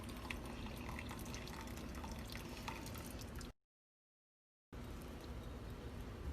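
Water drains and drips steadily from a heavy cooked rice pudding just lifted out of its pot of water, a continuous close trickle that cuts out briefly before resuming.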